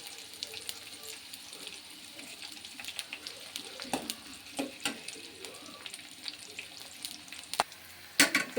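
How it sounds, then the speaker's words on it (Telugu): Onion and curry leaves fry in a pan in a steady sizzle, with sharp clicks and scrapes from stirring scattered throughout and a louder clatter near the end. "ఇప్పుడు ఆనియన్ దీంట్లో వేసేసుకుంటున్నా. బాగా వేయించుకుందాం."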